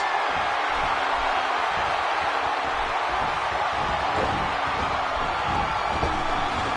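Arena crowd in the WWE 2K16 wrestling video game during a Hell in a Cell match, a constant loud roar of cheering and whooping, dense and unbroken.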